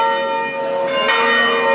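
Church bells ring out steadily with a sustained, resonant metallic tone that swells slightly partway through, with no talking.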